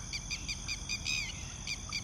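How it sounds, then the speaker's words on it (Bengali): Repeated bright, shrill calls of a red-wattled lapwing, evenly spaced sharp notes sounding fairly close over a low rumbling background, with no voices. "পাখির ডাক ক্রমশ নিকটতর হতে লাগলো।"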